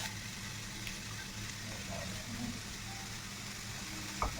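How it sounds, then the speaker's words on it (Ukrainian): A soft, steady sizzle of onion, grated carrot and mushrooms frying in a pan while being stirred, quiet and continuous with faint background hum. "Підсмажую все гарненько перемішуючи."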